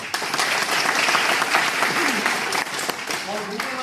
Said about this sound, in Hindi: मैं चाहूंगा राधेश्याम शर्मा जी की एक ताली होनी चाहिए।